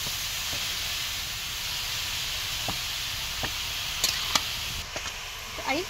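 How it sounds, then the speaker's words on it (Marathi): Grated carrot roasts in ghee with a soft, steady hiss and sizzle, broken by a few light scraping and clinking stirs. "छान तुपामध्ये आपल्याला हा संपूर्ण गाजराचा किस आहे ना तो भाजून घ्यायचा आहे।"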